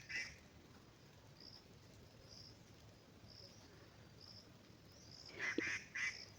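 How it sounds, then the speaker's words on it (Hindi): Birds call from trees around a mountain home, faint scattered honking and squawking notes with a louder cluster near the end over quiet background. "आप पहले चिड़िया की आवाज़ सुनिए गाइस।"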